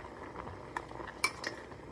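A utensil clinks against a metal pot a few times as rice is stirred, with faint boiling bubbles in the background; quiet and close, no talking.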